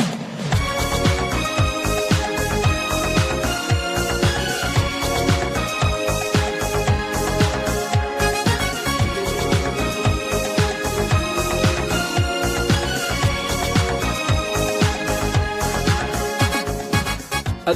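Fairlight-sampled orchestral string and brass riffs layered together in a dense, steady pop chorus arrangement with driving beat, loud and continuous with no voices.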